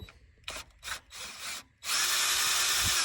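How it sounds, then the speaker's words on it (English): A right angle drill boring holes in a Kinze planter whines in several short bursts, then runs in one long, loud continuous spin; close by, with no talking. "right angle drill,"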